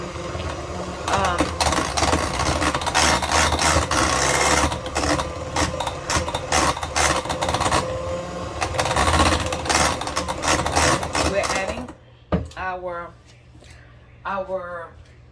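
An electric mixer creams cream cheese with sugar for a no-bake strawberry cheesecake. It gives a steady, fluctuating motor whir with beater rattle for about twelve seconds, then stops, and a person talks afterward.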